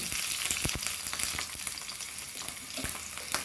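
Food frying in a pan for a Goan mango dish, a steady dense sizzle with occasional sharper crackles and pops, close by and without any talking.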